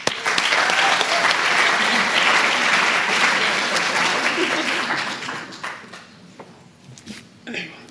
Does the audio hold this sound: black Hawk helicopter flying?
no